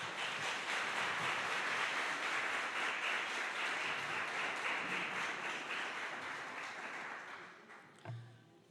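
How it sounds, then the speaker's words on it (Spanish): A church congregation applauds together, a steady wash of clapping that runs loud for about eight seconds, fades near the end, and finishes with a short thump. "Den un aplauso al Señor por la vida de todos."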